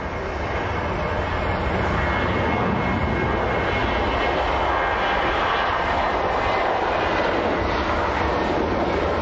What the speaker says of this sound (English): There's another Ryanair 737, another rocket ship. Have a listen to this noise.